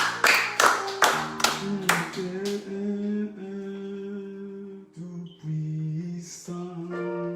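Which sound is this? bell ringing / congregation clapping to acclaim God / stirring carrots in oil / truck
congregation clapping to acclaim God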